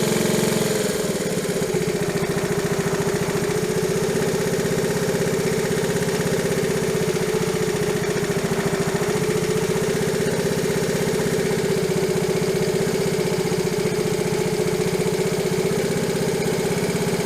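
A Honda CT70 trail motorcycle engine idling close by, a loud steady putter with a constant low hum, running evenly throughout after a slight change in tone at the start.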